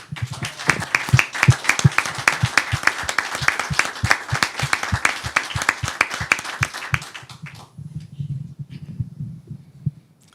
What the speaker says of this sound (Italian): un applauso vi chiederei di complimento ancora per il lavoro di Anna Maria